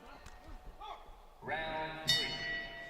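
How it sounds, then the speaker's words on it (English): A boxing bell rings out at the end of round two during a 92 kg bout at the AIBA World Championships 2021, a bright ringing strike with a lingering tone over arena noise and commentary. "So goes the bell at the end of round two."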